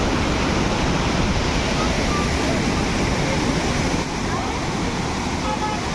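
Monsoon-swollen Borhill waterfall in Meghalaya roars as a steady, loud wash of rushing water, unbroken and dense throughout with no pauses.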